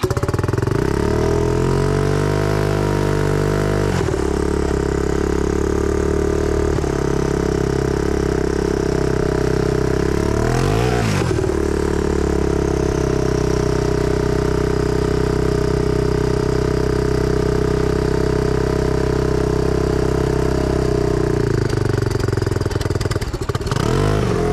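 A turbocharged EFI 660 engine on a lawnmower drives through snow, loud and close, with a steady harmonic drone, a sharp rev swell midway, and a rise and drop in pitch near the end.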